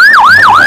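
A toy fire truck's electronic siren wails loudly and close, its pitch sweeping up and down in a steady repeating cycle.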